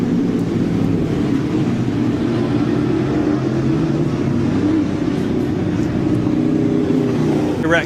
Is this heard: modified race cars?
yes